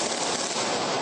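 Gunfire from criminals occupying a busy city avenue in Vitória, a dense, loud crackling burst of shots packed tightly together with no pauses.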